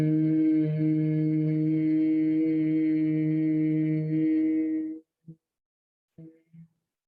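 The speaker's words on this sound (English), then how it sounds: "inhale, and then make this buzzing, humming sound like this." Bhramari Pranayama breath, a steady low buzzing hum held for about five seconds with ears and eyes closed, close and clear, followed by a few short soft hums.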